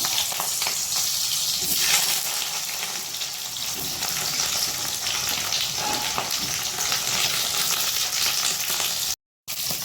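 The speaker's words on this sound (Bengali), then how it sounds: "আমার কড়াইতে তেল গরম হয়ে গেছে, এবার আমি এক এক করে ভেজে নেব। প্রথমে একটু গাজরটা ভেজে নিই।" Carrots frying in hot oil in a wok for navratan curry, a steady dense crackling sizzle running close and loud throughout, with a brief dropout near the end and no voices.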